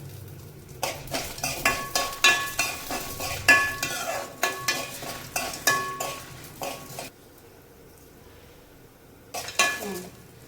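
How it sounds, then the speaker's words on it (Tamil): A spoon stirs dry red chillies and lentils frying in a pan, producing a run of regular scraping strokes with a faint sizzle beneath. The stirring pauses, leaving near quiet, then resumes briefly. "அடிக்கடி கிண்டி விட்டுட்டே இருக்கணும் இல்லாட்டி தீஞ்சிரும்"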